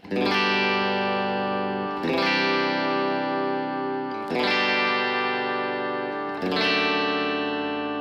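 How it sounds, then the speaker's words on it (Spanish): Four strummed open chords on a Gretsch Electromatic Jet G5230T-140 electric guitar, each left ringing for about two seconds, bright and sustained with a slight effect shimmer. "si les muestro cómo suena la guitarra con acordes abiertos"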